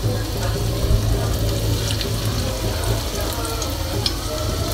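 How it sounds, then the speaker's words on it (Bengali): Cabbage pakoras deep-fry in hot oil, producing a dense, steady bubbling hiss that runs throughout, close and moderately loud with a few faint clinks. "তো এইভাবে সম্পূর্ণই পাকোড়া ভেজে নিচ্ছি।"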